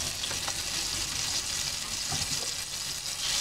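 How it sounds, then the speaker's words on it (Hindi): Butter with a little refined oil sizzling in a pan for cheese garlic bread, a steady close hiss with faint crackles running throughout, no talk. "इसमें हम 2 चम्मच बटर डालेंगे। बटर डालने के बाद इसमें थोड़ा सा रिफाइंड डाल देते"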